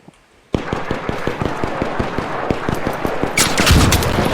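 Rapid automatic gunfire in the video game ARC Raiders, a loud close burst of evenly spaced shots lasting several seconds, joined by heavier blasts near the end.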